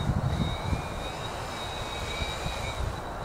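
HMF U580 Pro quadcopter motors at full throttle in a power climb, giving a loud steady droning whine with a high tonal hum running throughout, heard close with no talking.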